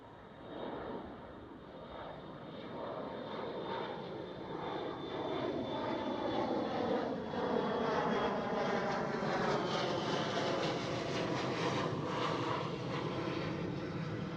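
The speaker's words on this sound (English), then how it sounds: "Next one up is a KLM Cityhopper, yes," KLM Cityhopper Embraer E175 jet taking off at Schiphol, a broad steady engine roar that swells and holds loud for the whole stretch, with a thin high whine riding on top and no voices.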